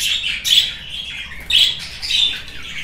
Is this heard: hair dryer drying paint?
no